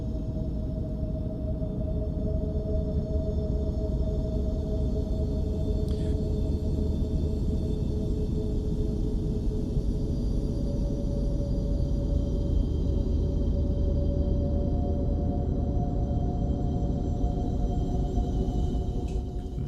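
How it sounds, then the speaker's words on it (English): The Earth itself gives off a steady, eerie drone: a dense low rumble with faint sustained tones above it, unbroken and even in loudness for the whole stretch, with no voices. "That is the sound of the earth."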